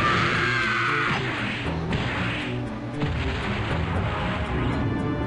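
A large explosion in a Neon Genesis Evangelion anime battle with an Angel: a loud, sustained rumbling blast with crashing debris that roars for several seconds and never fades to quiet.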